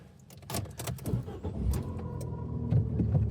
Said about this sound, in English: Engine is nice and quiet. Revs without any misfire whatsoever.